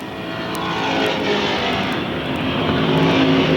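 Small block stock cars race side by side on a track, their engines forming a loud, sustained roar that swells slightly as they pass.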